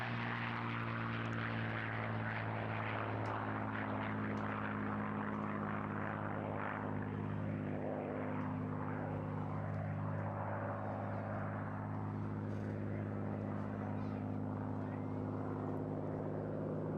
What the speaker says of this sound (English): One of the few warbirds of its time to be able to carry out escort duties all the way to Berlin.